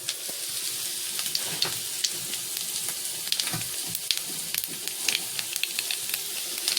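Nigella seeds tempering in hot oil, a dense crackling sizzle with sharp pops and spits scattered through it, steady and close, with faint stirring underneath.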